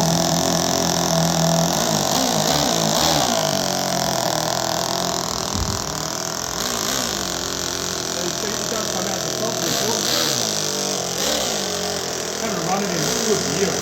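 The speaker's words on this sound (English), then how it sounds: "Oh, the exhaust is coming off. It's so loud, it's not fun." A loud car engine idling roughly with its exhaust detached, giving a harsh, steady drone that stays close and continuous with small shifts in pitch; a voice is faintly mixed in.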